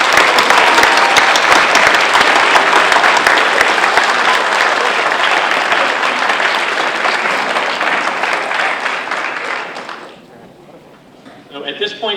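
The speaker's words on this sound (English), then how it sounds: "Let's give them a round of applause." At the dedication of Margaret J Thornton Elementary School, an audience claps loudly and steadily for about ten seconds before the applause stops abruptly, followed by faint rustling and movement.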